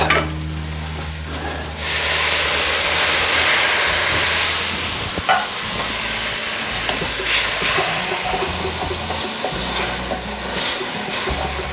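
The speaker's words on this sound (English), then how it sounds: "I'm gonna deglaze just a little bit here" Liquid hits a hot pan while Texas chili cooks, bursting into a loud, steady sizzle and hiss of steam that holds for several seconds, then eases to a softer crackle with light stirring scrapes.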